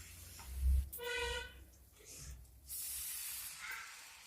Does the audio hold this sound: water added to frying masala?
yes